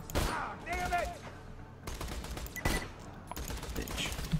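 Bursts of weapon fire from a Hyperion gun in the video game Borderlands 2, several sharp loud volleys spaced apart, with a voice and game sounds around them.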